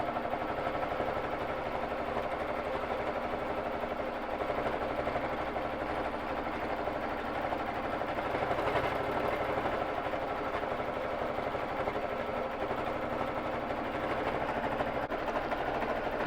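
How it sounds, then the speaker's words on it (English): A Babylock Jazz II sewing machine running continuously while free-motion quilting a border, a steady close mechanical hum and buzzing stitch rhythm with a slight dip near the middle, no speech. "I'm just quilting in the border right now"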